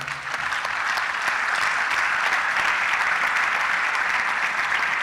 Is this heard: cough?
no